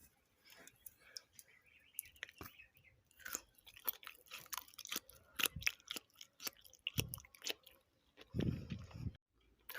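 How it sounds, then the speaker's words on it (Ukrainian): Someone bites into and chews crunchy fermented pickled cucumbers close up, giving irregular crisp crunches and wet chewing sounds with short pauses between them. "Огірочки не розлазяться, хрумкенькі."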